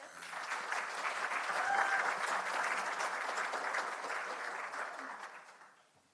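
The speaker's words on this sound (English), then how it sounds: "Let's give it a clap." An audience applauds a presenter at an emerging researchers symposium, a steady moderate wash of clapping that swells briefly, holds, then fades away near the end.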